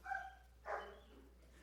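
Dogs barking during a city council meeting: two short, somewhat distant barks a moment apart, heard over faint steady room hum.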